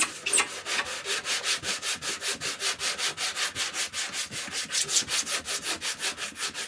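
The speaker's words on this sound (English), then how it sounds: "So let's just sand that a little bit" A JTCAN flare sanding block worked by hand over a dented curved area, giving a steady run of rhythmic back-and-forth scraping strokes, about five per second, close and fairly quiet, with no voices.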